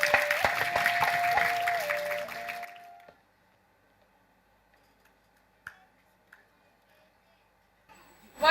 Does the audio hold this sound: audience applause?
yes